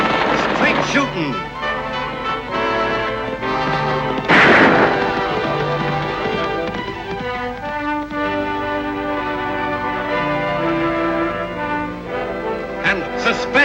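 Gunshots in an Annie Oakley western show, with sharp loud cracks and a big burst in the middle over a dramatic orchestral score, the shots ringing out amid the music.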